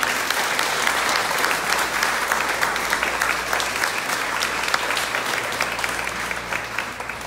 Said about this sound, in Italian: Io vorrei che voi faceste un applauso.